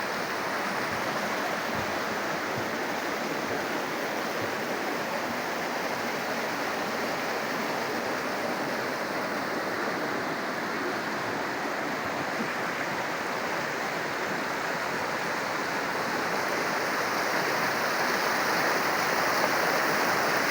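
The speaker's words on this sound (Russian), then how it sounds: "шум воды. Вот речка." Steady rushing water of a small river flows continuously at a sanatorium, a broad even wash of sound nearby, with no voices.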